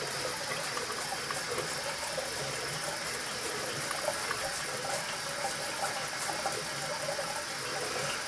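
Tap water runs steadily and evenly for several seconds while someone shaves, a close, continuous hiss with no talking.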